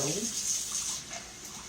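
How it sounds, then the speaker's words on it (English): A kitchen faucet fed by well water runs steadily, a soft continuous hiss and splash into the sink that stays even throughout, fairly quiet and without talk. "let's run our water till it gets cold"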